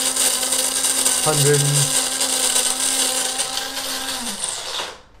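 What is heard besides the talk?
electric coffee grinder running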